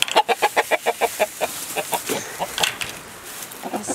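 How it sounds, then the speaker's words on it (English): Chickens being let out of their coop in the morning clucking close by in a quick, even series of sharp clucks, then softer scattered clucks and rustling. "let the chickens out of the coop and feed the chickens"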